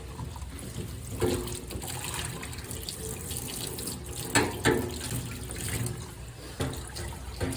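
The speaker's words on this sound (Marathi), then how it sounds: "माझं इथे गरम पाण्यात कप धुवायचं सुरू आहे." Cups are rinsed under a running tap of hot water, the steady splashing stream broken by a few louder clinks and gushes as the cups pass beneath it.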